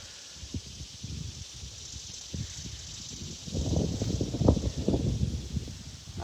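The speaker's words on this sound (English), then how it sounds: "Oh, the wind feels so nice." Wind blowing outdoors during an exercise session, a steady breathy rush with soft rustling that swells louder toward the end, close to the microphone, with no talking.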